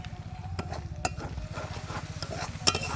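Spice masala of ground green chilli, turmeric, cumin and coriander powder being sautéed in a pan, with steady soft sizzling and repeated scraping strokes of a spatula close up.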